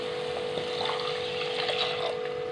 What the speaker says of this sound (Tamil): இப்போ தண்ணி விட்டுடலாம்.